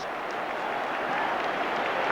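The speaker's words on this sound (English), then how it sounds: "the crowd are applauding Schmeichel off" A football crowd at a 1993/94 FA Cup sixth-round match between Manchester United and Charlton Athletic applauds a goalkeeper leaving after a red card: steady, distant, broad clapping that fills the whole moment without a break.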